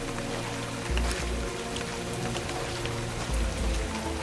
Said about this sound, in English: I really hate the rain.